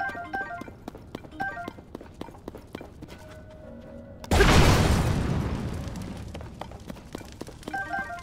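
A cannon gun fires in Zelda: Tears of the Kingdom, a single loud booming blast with a long rumbling decay, set among light game footsteps and clicks.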